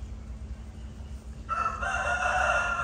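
A rooster, one of a flock of chickens recovering from illness, lets out a loud sustained crow that starts partway through over low background rumble.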